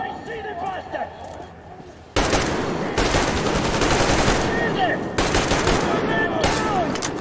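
Bursts of automatic gunfire from the post-apocalyptic shooter Metro Exodus, loud and sustained in several long volleys with brief breaks, a voice talking over the quieter opening.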